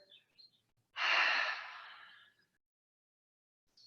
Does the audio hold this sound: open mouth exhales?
yes